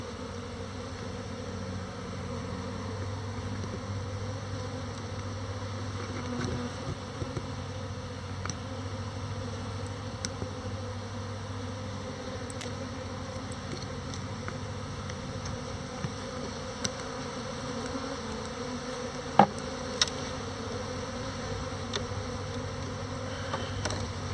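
Honeybees hum continuously around open hives during an inspection by a beekeeper, a steady low drone with occasional closer buzzing passes and small clicks from handling frames.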